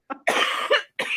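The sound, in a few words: cough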